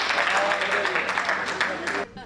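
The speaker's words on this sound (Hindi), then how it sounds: "एक बार आपकी तालियां बजे" An audience claps at a Hindi poetry recital, a short burst of fairly steady applause that fades out at the end.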